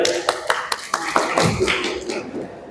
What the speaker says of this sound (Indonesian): tepuk tangan buat siapa tadi?